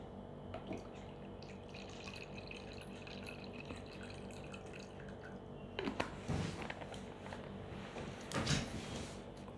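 Ordinary tap water trickles and splashes into a Vapozap steamer under a constant background hum, with a couple of louder pouring or clunking bursts toward the end.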